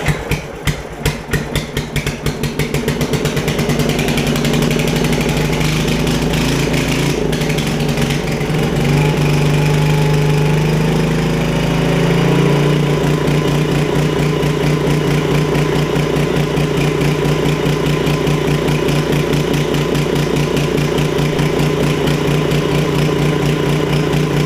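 An 8 hp Briggs & Stratton small engine, with its crankshaft swapped for use on a Giant Vac blower, sputters and catches, then runs steadily and loudly with a rough, pulsing drone that holds for the rest of the stretch.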